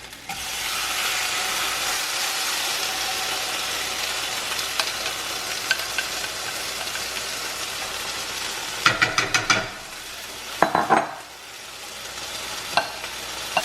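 Sauce and food are pushed around a hot frying pan, making a steady loud sizzle with scraping utensil strokes and a few clattering bursts near the end.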